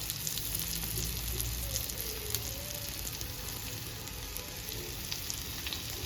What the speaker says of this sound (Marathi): शॅलो फ्राय करून घ्यायचे आहेत हे फिश।